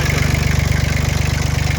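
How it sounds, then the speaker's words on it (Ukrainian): An old Japanese three-cylinder engine idles close by with a loud, steady, rapid low throb and even pulsing rhythm, running alone without voices. "моторчик точно такий самий, як у мене, тільки в тебе три циліндри"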